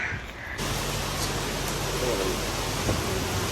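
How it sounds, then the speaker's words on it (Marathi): Heavy rain pours outdoors in a broad, steady hiss that swells in after a brief quieter start and stays loud and continuous, with no voices. "खूप पाऊस पडतोय, हे बघा, जामच पाऊस पडतोय"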